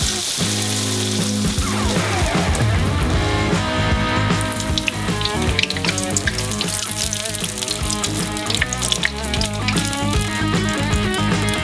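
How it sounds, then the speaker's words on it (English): Breadcrumb-coated corn dog deep frying in hot oil, a dense, continuous bubbling sizzle that holds close and steady throughout with no talking. "And then you just gotta fry it."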